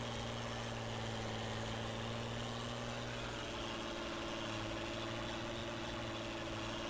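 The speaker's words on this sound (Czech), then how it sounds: "a možná ten traktor ještě trošku slumím, protože se mi zdá, že hřebe trošku víc, než je zdrávo" A tractor engine idles in the farming game Farming Simulator 19, giving a steady, low droning rumble that holds constant and fairly quiet throughout, with no voices.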